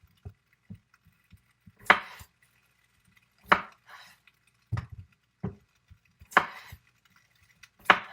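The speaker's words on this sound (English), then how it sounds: "Cut it in half, and cut it in half again, and just quarter it" A knife cuts vegetables in half and then into quarters on a board for fisherman's pie, with scattered sharp chops and soft taps at an irregular pace, close and clear with quiet gaps.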